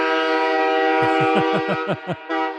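A train horn blares in a long, steady, loud tone, joined partway through by a rapid series of rhythmic rail clatters that fade out near the end.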